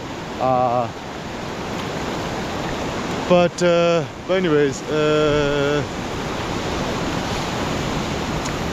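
Ocean waves wash onto a beach in a continuous, loud hiss of surf, with someone speaking briefly over it in a few short bursts.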